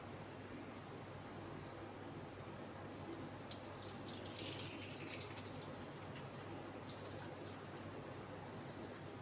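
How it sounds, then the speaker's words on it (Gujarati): Water pouring steadily while homemade paneer is strained through a cloth, a continuous close splashing wash that runs unbroken throughout. "ચાલો હવે આપણે આમાં પનીરને ગાળી લઈએ"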